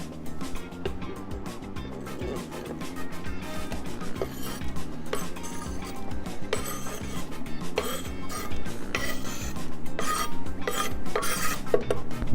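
Onions tipped into a hot pan turned up high for a soup, with continuous scraping, stirring and utensil clinks against the pan building louder over time, close and busy.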